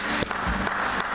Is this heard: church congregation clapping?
yes